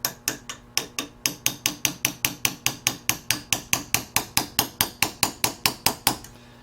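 A hammer strikes metal in a fast, even series of some two dozen sharp blows, close and ringing, bending up the tab of a lock washer on a nut.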